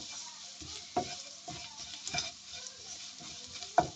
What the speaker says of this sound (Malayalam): രണ്ടും ഇട്ട് കഴിഞ്ഞിട്ട് നമ്മൾ നല്ലോണം ഒന്ന് വീണ്ടും ഒന്ന് ഇളക്കി കൊടുക്കുക